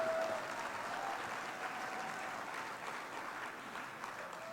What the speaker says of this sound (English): give them a round of applause for that